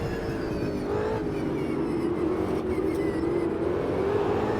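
Ultima GTR race car engine in Automobilista 2 at Brands Hatch, a continuous loud buzzing drone that rises and holds in pitch under steady acceleration, with no pauses across the stretch.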